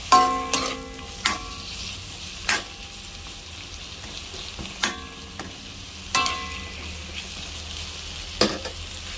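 Sayote being sautéed in a pan sizzles steadily, with sharp utensil clinks and scrapes recurring every second or two over the frying noise.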